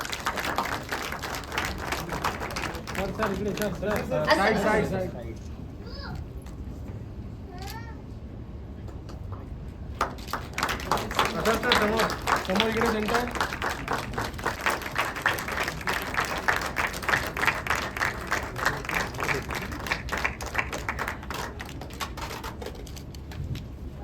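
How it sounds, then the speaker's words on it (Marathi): Audience clapping breaks out at a music launch event for a Marathi song, a dense, sustained round of applause filling the second half after a stretch of voices and noise. "एकदा जोरदार टाळ्या होऊन जाऊ दे"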